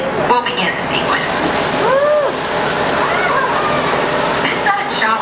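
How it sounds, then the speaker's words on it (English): Simulated rain from rows of water nozzles on a studio backlot set, a dense steady hiss of falling water and splashing, loud and continuous, with faint whistle-like tones and brief voices mixed in. "This sudden shower is really just a special effect."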